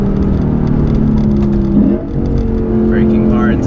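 A Lexus RC F engine hums and whirs loudly as the car brakes hard into corners, with a brief dip in engine note, steady tonal drone and voices talking over it inside the cabin.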